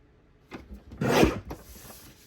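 A paper trimmer slices scrapbook paper: a short rasping scrape, a longer louder swish of the blade through the sheet, then softer shuffles. Close, quiet room, no talking.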